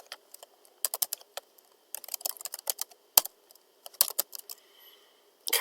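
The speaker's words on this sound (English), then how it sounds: "now we're going to type cp" Bursts of crisp, close keystrokes on a computer keyboard arrive in uneven clusters separated by short pauses, ending in a final louder clack; no speech.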